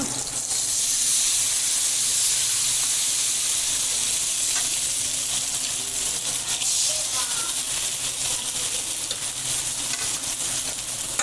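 Potatoes frying in hot oil while a dish of topshe fish is cooked, giving a steady, fairly loud sizzle and hiss that runs unbroken throughout with faint stirring.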